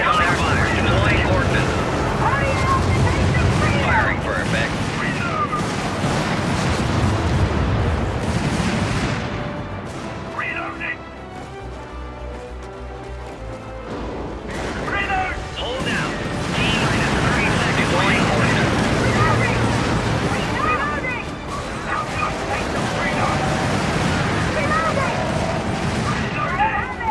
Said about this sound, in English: Deploying ordnance. Firing for effect.